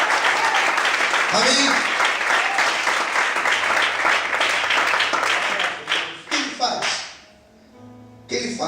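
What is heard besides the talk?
congregation applauding in church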